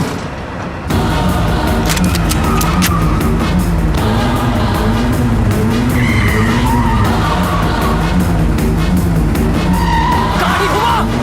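Car skidding in a South Indian action movie chase: a loud, continuous engine roar with repeated tire screeches and skid noise, close and intense across the whole stretch, with a voice briefly shouting over it.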